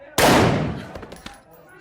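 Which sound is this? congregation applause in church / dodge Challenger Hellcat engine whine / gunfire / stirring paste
gunfire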